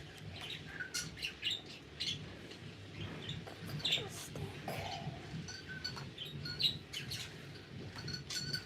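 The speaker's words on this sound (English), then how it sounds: "a stinky little English budgie. His name is Reed. And he is my little chatterbox." A pet English budgie chirps and tweets in short, scattered bursts indoors, faint and somewhat distant, over a low steady background hum with some faint voices.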